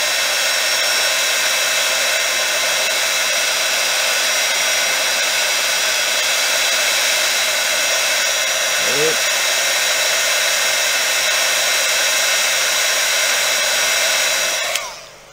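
A heat tool blows steadily and loudly on a polymer clay bottle for a long stretch, a constant rushing drone that cuts off abruptly at the end.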